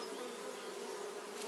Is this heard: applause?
no